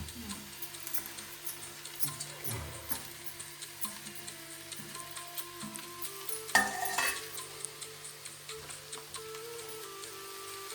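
Leafy greens with roasted masala stirred and frying in a pan in a village kitchen, giving a soft continuous sizzle broken by repeated scraping stirs and one louder clatter.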